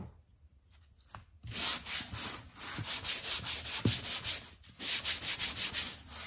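A rubber-gripped sanding block loaded with sandpaper makes a few quiet handling taps, then settles into rhythmic back-and-forth rubbing strokes, close and fairly loud, with a brief pause before the scraping resumes.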